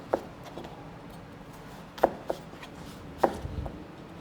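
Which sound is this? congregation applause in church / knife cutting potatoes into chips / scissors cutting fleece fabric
knife cutting potatoes into chips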